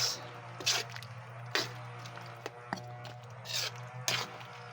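A spoon stirs saucy Bicol Express in a pan, giving several wet, squishy strokes at an uneven pace, moderately close, with a low steady hum underneath and no one speaking.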